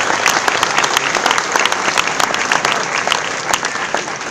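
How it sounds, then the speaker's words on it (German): A crowd at the 2018 maypole raising in Bad Waldsee claps in sustained, loud applause for several seconds, a dense outdoor patter of many hands with no voices standing out. "Ein wunderschöner Applaus."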